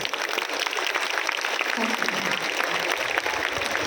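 Many hands in a school hall clap together at the 2022 annual celebration of Holy Name High School in Colaba, Mumbai, a steady, somewhat distant roar of applause that stays even from start to finish.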